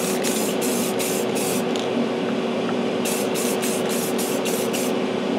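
A spray can of clear coat hisses in repeated short bursts over a Buick scale model, a loud close airy spray with a pause midway.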